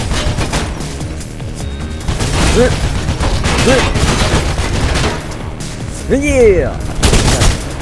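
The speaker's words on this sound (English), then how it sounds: "Is he still shooting at me when I'm not here right now?" Shotgun fire in the video game Mirror's Edge, loud repeated bursts of gunfire across the clip, mixed with game noise and a voice briefly shouting over it.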